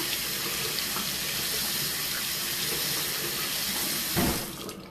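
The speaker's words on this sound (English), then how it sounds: "I'm gonna rinse off my rubber applicator here" Steady running tap water splashes over a rubber skincare applicator being rinsed in a sink, a continuous close wash with a brief louder splash near the end.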